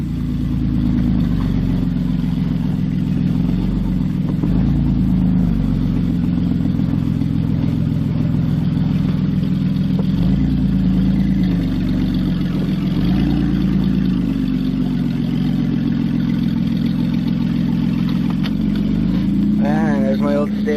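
A Nissan Pathfinder engine with a worn-out steering pump idles for a long stretch, giving a steady, close, low droning hum with slight rises and dips in pitch and a few clattering touches.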